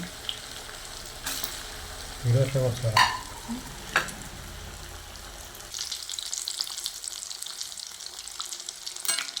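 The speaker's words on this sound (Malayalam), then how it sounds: "അപ്പോൾ നമ്മൾ ചട്ടിയൊക്കെ ചൂടായി നമ്മൾ കാടപ്പുളിക്കൂട് ഫ്രൈ ചെയ്യാൻ പോവുകയാണ്" Quail egg bird's nest snacks sizzle in a hot pan, a steady frying hiss broken by a few clunks and scrapes of a utensil, with a faint voice in the background.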